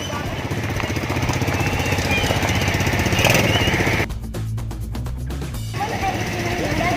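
A small ATV engine runs steadily nearby with a continuous buzzing drone. Partway through, a rapid rattling pulse cuts in for about a second and a half, and voices can be heard over the motor.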